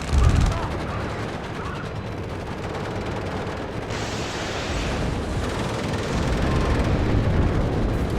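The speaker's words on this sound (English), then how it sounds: "it looks like the tank is having to shoot enemies from all sides" Tank fire in the strategy game Warno, a dense rumbling barrage of gunfire and explosions building steadily, loud and continuous, with a voice speaking over it.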